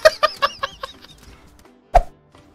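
Animated chicken clucking in a quick run of five or six loud, close clucks, fading into softer cackles, then a single sharp cluck after a short pause.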